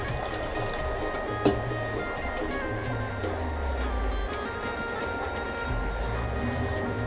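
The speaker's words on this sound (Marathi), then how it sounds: "तर आता मी याच्यामध्ये पाणी घालते." Water poured into a pan of masala cooked in oil while making a Roha fish curry at home, a steady continuous splashing fill running for several seconds, close and moderately loud, with no talk over it.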